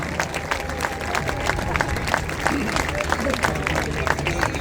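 An airshow crowd at RAF Cosford claps in scattered applause while an announcer talks over the public address, steady and moderately loud outdoors.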